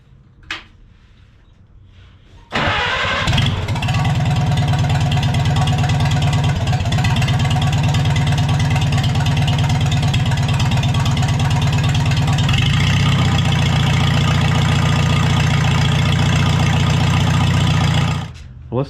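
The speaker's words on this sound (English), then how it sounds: "I'll bring you along for the first startup after, what, 4, 5, 6 months, and see if it's gonna crank." Farmall SC tractor engine, quiet at first with a faint knock, then cranking at about 2.5 seconds and catching into a loud, steady, rough idle that runs until it cuts off near the end.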